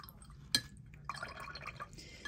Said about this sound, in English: So now let's rinse out this brush